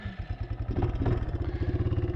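Kawasaki Bayou 220 ATV engine being ridden hard, a close, loud, throbbing single-cylinder putter with rapid regular pulses that climbs in pitch as it revs, with no talking.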